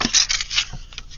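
Scissors snip through a piece of brown paper bag, a few quick crisp cuts with papery rustling, close and dry, with no voice.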